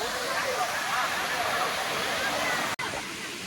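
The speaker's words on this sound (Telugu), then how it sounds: "ఇది అనంతగిరి వాటర్ ఫాల్స్ వ్యూ" Ananthagiri waterfalls in Araku Valley roar as a steady, dense wash of falling water close by, continuous and loud for the whole stretch, with one abrupt brief dropout near the end.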